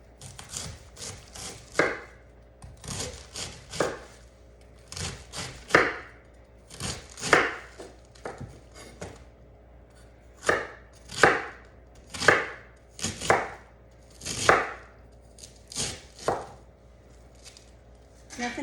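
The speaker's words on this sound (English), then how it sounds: "Just chop it up and put it in there. I am using a whole head of cabbage." A knife chops through a whole head of cabbage on a cutting board, giving a long run of close, crisp thuds in an uneven rhythm with short pauses between bursts.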